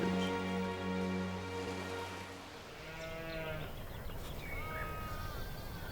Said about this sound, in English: New Zealand, famously described by Twain as snowed over with sheep